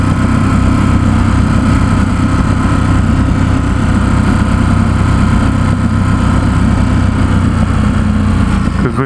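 A 2017 Ducati Supersport S motorcycle engine runs on the roads of San Francisco, a loud, steady, close droning hum with a buzzy mechanical edge that continues unbroken without voices.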